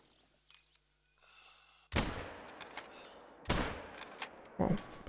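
Sharp gunshots from a hunting rifle in the deer-hunting video game theHunter crack out at intervals, each loud burst trailing into a short echoing decay, with quieter clatter in between.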